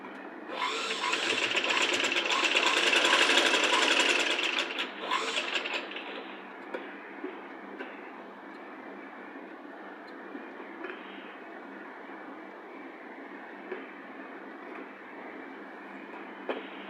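A sewing machine stitches a child's Punjabi dress top with a loud, close motor whir lasting about five seconds, then settles into a quieter steady hum with a few small clicks.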